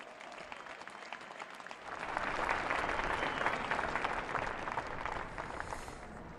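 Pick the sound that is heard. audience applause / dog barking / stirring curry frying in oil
audience applause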